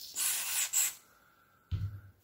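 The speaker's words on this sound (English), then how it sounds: "we're going to spray this nicely with some silicone." Aerosol silicone lubricant sprayed onto a part from an airsoft upgrade kit for an Uragan 2 rifle: two short close hissing spray bursts, then a quiet pause and a low soft thud of handling.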